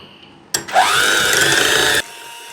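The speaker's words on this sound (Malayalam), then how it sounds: "നന്നായിട്ടൊന്ന് ബീറ്റ് ചെയ്യാം." Electric hand mixer beating one cup of sweetened whipping cream for a chocolate cookie pie, a steady loud whirring motor that kicks in abruptly, revs up, runs for about a second and a half, then cuts off.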